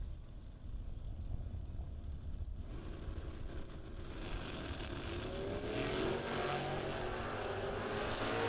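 Drag race cars at a bracket race launching side by side, one a 1968 Camaro, their engines rising from a distant rumble into a loud, building roar that swells over the last few seconds.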